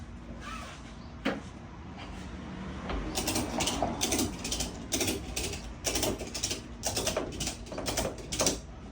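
A hand-crank hoist ratchets to lift a Jeep Wrangler hard top, a rapid series of close metallic clicks in quick clusters over a soft background hiss, no voices.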